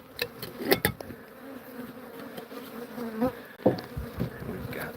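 Honeybees hum and buzz steadily around a beekeeper's out yard, a close, continuous drone with a few louder passes and thumps, and no talk.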